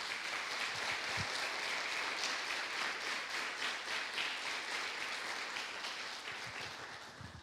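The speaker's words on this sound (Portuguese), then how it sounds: "Aplauda o nome do Senhor por isso" A church congregation claps together during a sermon, a steady, moderately distant wash of applause that holds evenly for several seconds and tapers slightly at the end.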